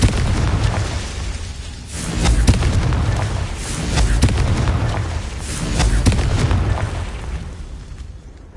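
Confringo blasting curse in Hogwarts Legacy, a run of fiery explosive bursts about every two seconds over a constant roaring rumble, loud and close with no talking.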